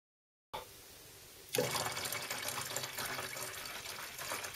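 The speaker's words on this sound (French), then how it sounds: "Et je vais mettre 4 bidons de litres d'eau avec." Water glugs and splashes steadily as it is poured from a one-litre bottle into an old 5-litre jerrycan, starting abruptly after a quiet moment and running on as a continuous, fairly close stream.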